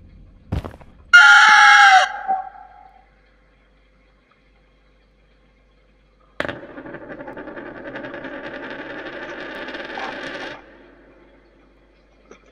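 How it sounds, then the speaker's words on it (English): A giant angry bird boss in the video game Garten of Banban 3 lets out a loud, harsh screeching cry lasting about two seconds, then after a pause a long, droning, rumbling roar-like sound holds for several seconds. "giant angry bird"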